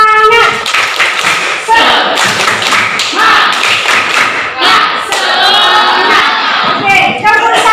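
A junior high school class in an Indonesian math lesson does a rhythmic group clapping chant, loud close taps and thumps in patterned bursts mixed with children shouting together.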